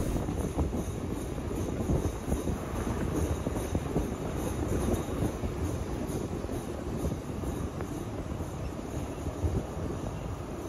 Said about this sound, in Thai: ตอนนี้เราก็จอดรอหลีกรถด่วนพิเศษนะครับ